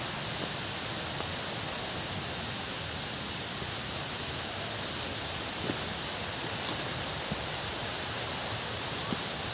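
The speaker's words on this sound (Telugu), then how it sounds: "వాటర్ ఫాల్ సౌండ్ మీకు వినబడుతుంది" A steady, even rush of a waterfall in Andhra Pradesh, India roars continuously without pause, loud and close, with no voices.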